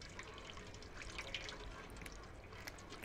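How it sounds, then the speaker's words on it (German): Water flowing and dripping quietly in the video game Stray, a steady faint trickle with scattered small drips and no talking over it. "Hier haben wir Wasser."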